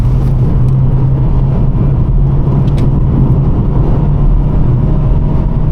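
Vauxhall Corsa engine pulling hard while racing on the road, a steady loud in-cabin drone with strong low hum and road roar, continuous without speech.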